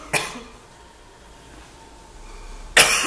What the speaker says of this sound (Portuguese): Só esperar minha cliente aqui tossir.